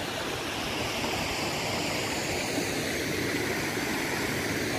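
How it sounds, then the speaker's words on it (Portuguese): A large creek in Minas Gerais, Brazil, rushes past in a dense, constant roar of flowing water, loud and close, with no voices heard over it. "Olha o riachão."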